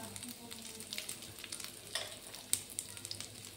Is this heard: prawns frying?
yes